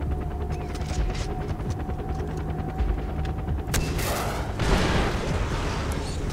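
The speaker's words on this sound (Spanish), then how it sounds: "ya ahora es cuando viene el disparo más importante de todos" Gunfire in the Far Cry 4 video game, with a steady bed of rapid shots and rumbling combat noise, then a sharp loud shot near the four-second mark followed by a broad blast and crackling debris.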